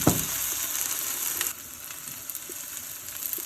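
Okra sizzles steadily as it fries in a pan with curry leaves, a close, even hiss with a soft stir or clink of the pan partway through.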